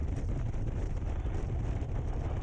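Wind buffets the microphone while riding a Suzuki Intruder motorcycle, a continuous low rushing roar that stays steady and fills the clip.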